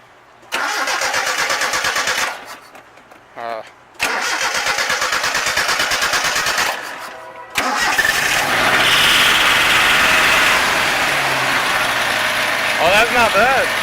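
A Toyota 720 pickup truck's engine cranks and catches, revving in bursts before settling into a steady, loud idle close by, with short pauses between attempts and people talking over it.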